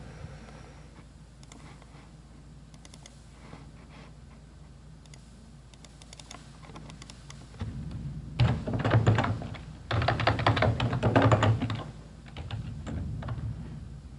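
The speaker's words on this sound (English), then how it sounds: "Obviously I can't type" Keystrokes on a computer keyboard while filling in an inventory worksheet: faint, scattered clicks at first, then denser, louder bursts of typing in the second half, with no talking.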